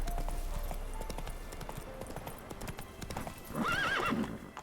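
Roach, the horse in The Witcher 3, gallops with a quick steady clip-clop of hooves. A loud neigh breaks in near the end.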